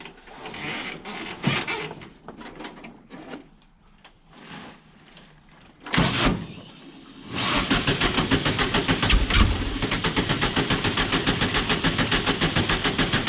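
A minibike engine turns over with uneven mechanical clatter and bursts of noise, then catches around the middle and settles into a loud, steady, rapidly pulsing idle after a carburetor adjustment.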